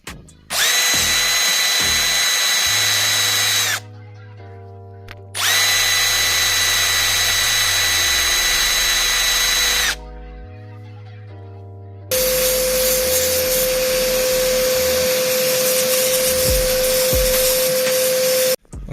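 A power tool with an abrasive disc buffs old gasket material off the exhaust manifold of a Nissan March Super Turbo under restoration. It comes in three loud, close bursts of whining grind separated by short pauses, with no talk.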